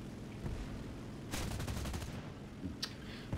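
Aircraft machine-gun fire in the War Thunder combat flight game, heard as a rapid burst of shots over a steady engine drone, with a few shorter bursts following.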